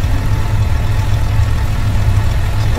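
A Dino truck engine idles steadily in a Euro Truck Simulator 1.41 mod, giving a close, continuous low diesel rumble with no other sounds.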